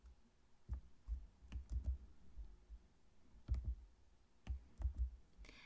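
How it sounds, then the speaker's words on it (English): A computer keyboard clicks in short bursts of keystrokes separated by pauses, close and fairly quiet with no talk, as someone types in a code. "and then type in the code."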